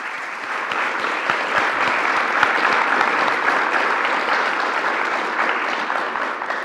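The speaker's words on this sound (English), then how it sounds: "I'd love to give a round of applause to our panel, Glenn and David." A conference audience at a climate and economic growth panel breaks into sustained applause for the panelists, a dense, even wash of many hands clapping that holds steady for several seconds without voices.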